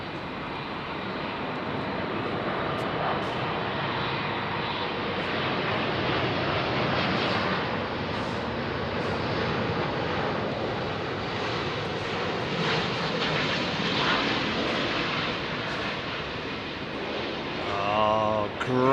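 An airliner departs from runway 27R at Heathrow Airport, a sustained loud jet roar filling the whole stretch, rising slightly toward the end with wind buffeting the microphone.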